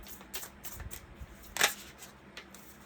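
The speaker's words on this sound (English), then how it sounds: "All these cards shuffle so nice." Deck of oracle cards being shuffled by hand, giving soft riffling flicks and one sharp close snap, quiet and without speech.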